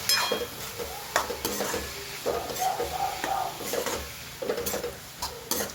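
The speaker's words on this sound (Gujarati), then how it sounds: "હવે આપણે એમાં પાલક એડ કરી લઈએ. સરસ મિક્સ કરી લઈએ." Spinach being stirred into fried onions and tomatoes in a pan, with steady scraping and stirring strokes over a soft sizzle, close and continuous.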